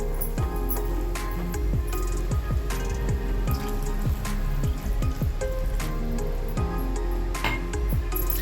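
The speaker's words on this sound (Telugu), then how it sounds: "ఇలా 2 నిమిషాలు పాటు పన్నీర్ మగ్గిన తర్వాత ఇందులో ఒక గ్లాసు వాటర్ పోసుకుందామండి" A glass of water goes into a paneer curry in a pan, giving continuous liquid pouring and splashing with repeated drips and bubbling close by, with no talk.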